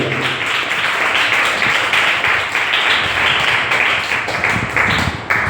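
A church congregation claps loudly together in a dense, sustained burst of applause that lasts several seconds, close and full.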